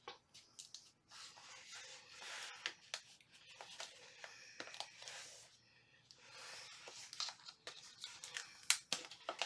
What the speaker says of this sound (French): Je vais prendre une paire de ciseaux.